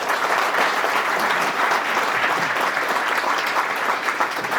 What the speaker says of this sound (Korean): 큰 박수로 환영해드립니다